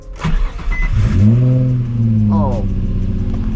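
A Nissan 350Z engine cranks and catches, then revs up and holds a strong, rising idle before a second quick blip, loud and close, with people talking over it.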